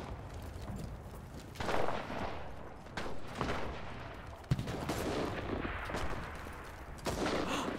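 Gunfire crackles in the World War II shooter game Enlisted during a D-Day invasion battle, with loud rapid shots and bursts layered over a constant rumbling battlefield din.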